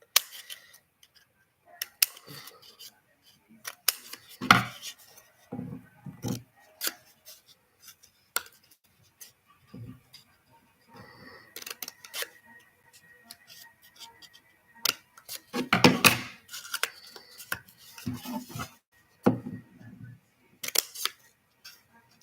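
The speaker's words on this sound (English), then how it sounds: "These scissors are really hard. They're stiff." Stiff scissors snip intermittently while crafting a mini barrel, a scattered series of short, close clicks and cuts separated by quiet pauses.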